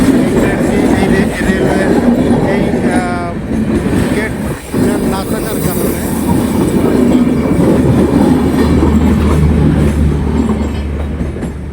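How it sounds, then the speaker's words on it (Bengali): A train rumbles past loudly at an unguarded railway crossing, with continuous clattering wheels close by and a brief squeal. Voices talk faintly underneath. "ট্রেনটি চলে গেল"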